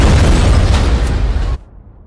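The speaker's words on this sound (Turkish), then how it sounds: "Bombayı kur ve patlat." A bomb detonates in the online shooter Zula, a loud roaring blast that rumbles heavily and then cuts off abruptly into quiet.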